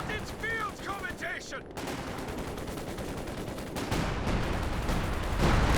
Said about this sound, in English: Chasing away with a machine gun.